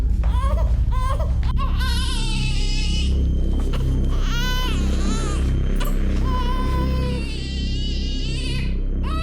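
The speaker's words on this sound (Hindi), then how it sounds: "घर में पिछले 4 घंटे से बच्चे की रोने की आवाज आ रही है" A small baby cries loudly and continuously in a closed house, wailing in repeated rising sobs over a steady low rumble, with no talk over it.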